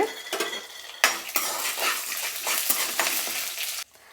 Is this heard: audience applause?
no